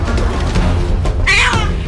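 A kitten with its head stuck cries out loudly, a close, strained, distressed meow that rises into a shrill wail near the end.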